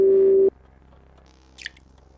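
A computer program sounds a Morse code beep: one loud, steady electronic tone lasting about half a second, then near silence with a faint high click near the end.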